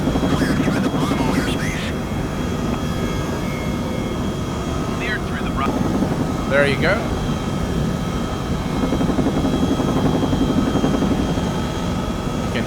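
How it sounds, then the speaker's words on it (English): A simulated helicopter in flight in Microsoft Flight Simulator 2020, using the FSRealistic add-on, gives a steady rotor and engine drone throughout. A voice speaks briefly over it. "You can hear the sounds now of FSRealistic."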